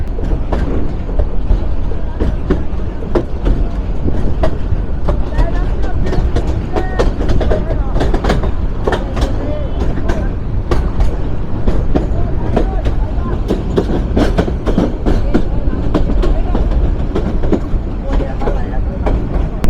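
A Titas Commuter train rolls along steadily near Ashuganj, Bangladesh, with continuous rumbling and rhythmic clattering of wheels on track, loud and close, with faint voices mixed in.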